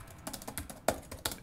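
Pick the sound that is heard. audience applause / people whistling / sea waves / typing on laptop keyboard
typing on laptop keyboard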